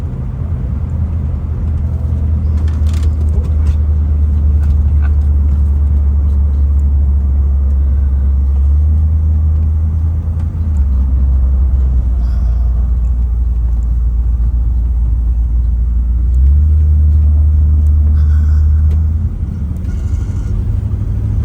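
A 1965 Ford Thunderbird convertible cruising down a freeway, its engine a deep steady rumble that rises and falls with shifts in speed, mixed with road and wind noise, with no talk.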